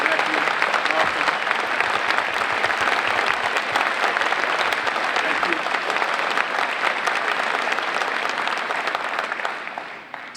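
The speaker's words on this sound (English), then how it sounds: "give a round of applause to my family that's come from Detroit" An audience at the Reaching for Rainbows 2025 event claps for a speaker's visiting family from Detroit, full and sustained applause from a large room that holds steady throughout and tapers off only at the very end.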